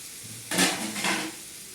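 Vegetable curry in a pot on a clay stove over a low flame, giving two short bursts of sizzling and stirring about half a second apart, close and moderately loud, with no talk.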